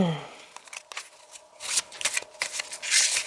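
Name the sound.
tarot cards being shuffled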